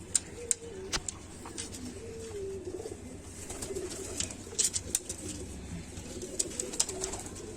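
Kamagar pigeons, the Kante-Wale or Jhumke-Wale type kept in Jammu and Kashmir, India, coo in low repeated throaty phrases nearby, with scattered sharp clicks and flutters around them.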